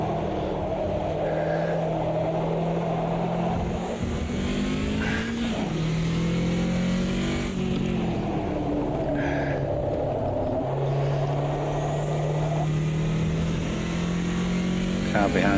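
Race car engines from Automobilista 2 multiclass racing drone loudly and continuously, rising and falling with revs, shifts and downshifts, while a voice talks over them.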